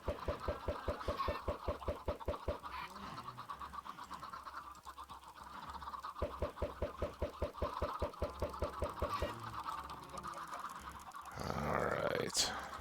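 Blocky chickens in Minecraft cluck in rapid, evenly spaced bursts that come and go across the scene, with gaps of game ambience between the runs.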